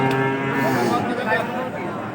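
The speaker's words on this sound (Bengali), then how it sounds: "একটা সিন্ধি জাতের গরু দেখতে পাচ্ছি" A Sindhi breed cow lows at a cattle market, one long, loud, close moo that fills the whole moment, with no talk over it.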